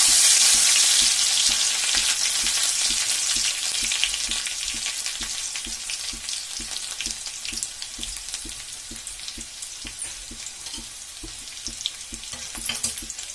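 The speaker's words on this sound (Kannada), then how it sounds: "ಚಟಪಟ ಚಟಪಟ ಅನ್ಬೇಕ್ರಿ. ಅದು ಬೆಳ್ಳುಳ್ಳಿ ಹಾಕ್ತೇನ್ರಿ." Garlic crackles and fries in hot oil, a loud dense sizzle with rapid popping that gradually eases over several seconds, heard close with no voices.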